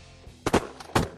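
A shotgun fired while duck hunting from a blind: two quick, sharp, close reports about half a second apart, against quiet outdoor background.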